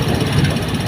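A single motorcycle's engine runs on a one-way street, a steady low idling rumble that fills the short moment without a break.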